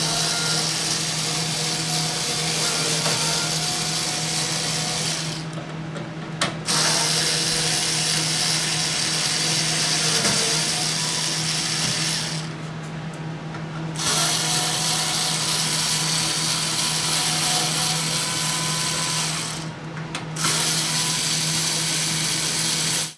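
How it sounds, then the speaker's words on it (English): A power screwdriver whirs continuously and loudly, close up, with a low steady hum beneath, pausing briefly three times while removing screws from the side casing of a Breville Smart Oven; no speech. "let's get the screws out of the side so I can get the cover separated"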